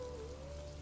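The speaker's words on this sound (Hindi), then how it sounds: "यहाँ देखो, पेड़ों की पत्तियों से पानी टपक रहा है," Steady patter of water drops falling on a surface, continuous and soft, with a faint tonal hum running underneath; no voices.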